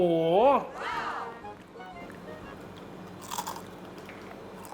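Crispy fried pork belly is bitten into close up, giving a brief, sharp crunch after someone speaks excitedly at the start.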